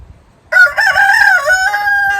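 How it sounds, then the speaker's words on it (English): A pet rooster crows loudly and close by during an outdoor chicken yoga session, one long strained cock-a-doodle-doo rising and then trailing off, with no talking over it. "A little bit of distraction from my rooster."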